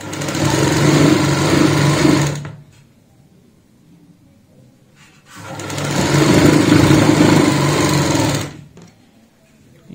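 A sewing machine stitches a jute sack doormat in two loud, close, sustained runs of a few seconds each, separated by a near-silent pause.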